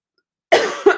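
A person coughs twice in quick succession, close and loud, with a sharp burst and a second hacking cough after a short pause, during a live chat stream about football.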